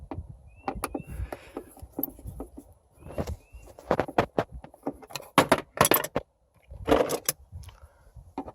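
Screws come out of a sun visor inside a 2003 Mitsubishi Lancer, heard as close, irregular clicks, small metallic rattles and soft scuffs in short bursts with brief quiet gaps.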